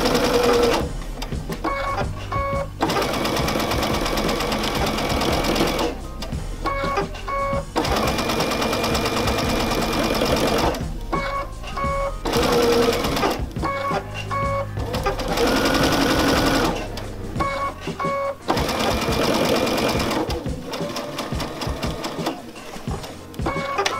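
Sewing machine stitching around the outer edges of crazy patchwork, a loud steady motor whir in several long runs separated by short pauses, with no talking.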